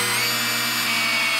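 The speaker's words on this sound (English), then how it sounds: "so I can drill that out" A power drill whines at a steady high pitch, drilling out a steering shaft on a Bullnose Ford Bronco, running continuously up close for a brief moment.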